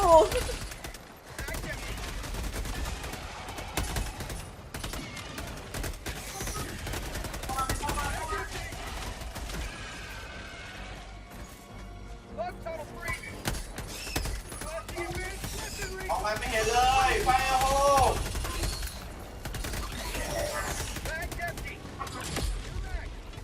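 Rapid machine gun bursts in the video game Helldivers 2, crackling in uneven volleys mixed with game effects while players talk and shout excitedly over the action.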